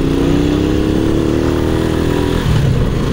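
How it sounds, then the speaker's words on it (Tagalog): A two-decade-old motorcycle tricycle (kulong-kulong) engine runs close and loud, a continuous buzzing drone that shifts pitch slightly near the end as it changes speed. "2 dekada na itong motor na."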